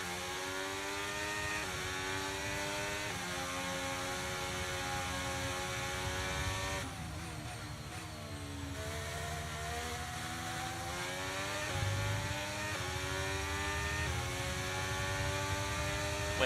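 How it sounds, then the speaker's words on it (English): A steady Formula 1 race car engine drone in the video game F1 23, with rising and falling revs and a faint whine, heard from inside the car; no talking. "I'm hearing a rumble in my car."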